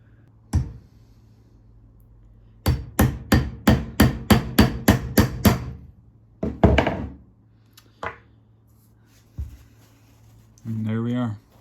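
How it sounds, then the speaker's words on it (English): Hammer blows drive a bearing into its seat through a socket during a Craftsman table saw repair: a single tap, then a rapid run of about nine sharp metallic strikes, a few more scattered knocks, and a brief voice at the end. "take the socket and just hammer"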